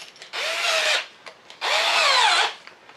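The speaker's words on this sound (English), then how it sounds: "Then we're going to go in with a 5mm drill bit here" A power drill with a 5mm bit cuts through a Redcat RS10 crawler truck body in two bursts, each a close, loud whirring grind with rising pitch as the bit engages, separated by a short pause.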